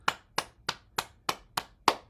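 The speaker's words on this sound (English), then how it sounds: "Clap your hands." Hands clap seven times in a steady, even rhythm, each clap sharp and close with a quick decay, alone with no talk.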